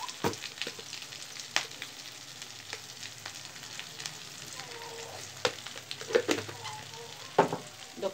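Egg fried rice sizzles in a hot pan while being stirred and mixed, with a continuous frying hiss broken by sharp scrapes and clicks of the utensil against the pan.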